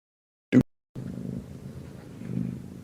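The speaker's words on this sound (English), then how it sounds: "I hear a cat." A low, steady purr rumbles close by after a brief sharp click, continuing softly with slight swells.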